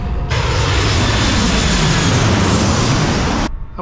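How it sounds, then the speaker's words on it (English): A loud aircraft roars close by at Lanzarote airport, a dense steady engine rush that cuts off abruptly, with no talking. "you get to see the planes, it's brilliant"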